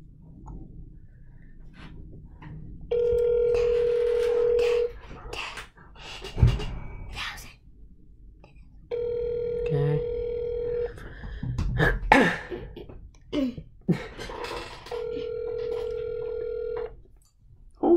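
Phone ringback tones sound during an outgoing prank call, three long steady buzzing rings separated by pauses, with people talking and laughing nearby in between.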